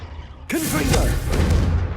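A Confringo explosion spell in Hogwarts Legacy bursts suddenly into a loud, sustained fiery blast with rumbling low end and a bright crackling tail, alongside a short voiced exclamation as it goes off.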